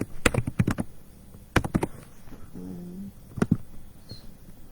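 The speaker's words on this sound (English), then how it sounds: "if you hear me typing, that's just me tagging people" Typing on a computer keyboard, heard as several short bursts of sharp clicks separated by pauses, fairly close, over a low background hiss with no talking.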